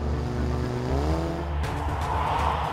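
An Audi TT convertible driving on the road, its engine droning steadily and rising in pitch as it accelerates, close and fairly loud, with a brief tire noise near the end and no speech.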